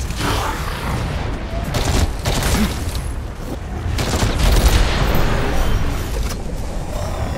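Heavy gunfire in the SYNCED open beta shooter game: dense, continuous bursts of automatic fire mixed with booming impacts, loud and sustained throughout with no pauses.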